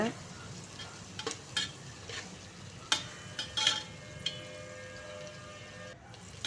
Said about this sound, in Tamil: பாருங்கள், நல்லா வதங்குது.